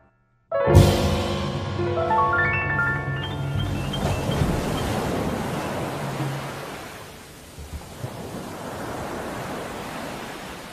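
Ocean waves at a beach resort in La Union wash in a steady broad roar of surf, loud and close, fading slightly and swelling again, preceded by a brief bright tonal musical sting at the start.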